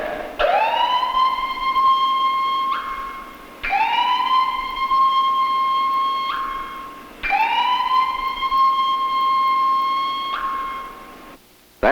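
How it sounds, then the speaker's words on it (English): A loud electronic snake-bite alarm siren being tested at the California Academy of Sciences aquarium wails in three long rising-then-steady blasts, each about three seconds with brief gaps between, no voices present. "This is a snake alarm test."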